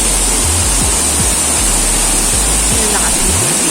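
A powerful waterfall in Hong Kong Park roars as a loud, dense, unbroken rush of water, with low rumbles from nearby traffic or footsteps running beneath it.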